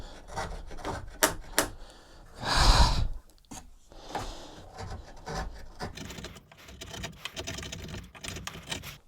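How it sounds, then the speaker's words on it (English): A chisel pares an edge flat in a series of short, rasping scraping strokes with brief pauses between them. One longer, louder stroke stands out early on, and there is no speech. "What I'm doing here is trying to use the chisel so that I get as flat an edge as I possibly can"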